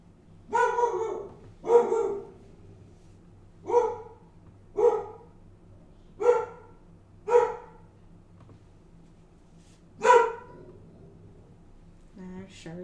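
A dog named Mochi barks in a series of seven or so loud, separate woofs spaced about a second apart, close by, with a low steady hum underneath and a brief voice near the end.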